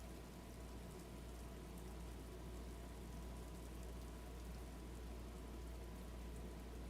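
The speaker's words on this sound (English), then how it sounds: "It's the RGB rain." Steady, dense rainfall hisses in the video game Scarlet Nexus, a constant even wash of drops with no voices, quiet and unbroken from start to finish.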